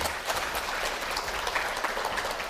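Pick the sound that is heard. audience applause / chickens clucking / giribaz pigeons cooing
audience applause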